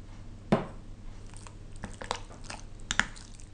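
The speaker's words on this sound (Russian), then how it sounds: "И хорошо перемешиваем, чтобы фарш был более пластичным." Soft, wet squishing and slapping as minced meat for dumplings is kneaded by hand, in irregular bursts, close and fairly quiet, with no talking.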